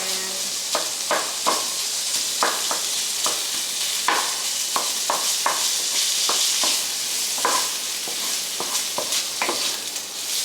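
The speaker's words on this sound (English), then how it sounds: "I just put a little oil because this sausage is already fatty. This is pork sausage" Pork sausage frying in a pan with a little oil, giving a steady close sizzle dotted with sharp pops and crackles throughout, with no talking.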